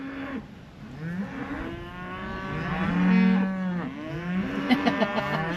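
Cattle moo loudly and close at a farm, one long low bellow swelling and fading, then a shorter call, with faint clicks near the end.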